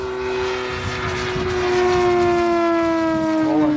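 Model airplane engine making a pass in straight and level flight at about two-thirds throttle, with a steady, loud, high-pitched drone that slowly drops in pitch as the aircraft goes by.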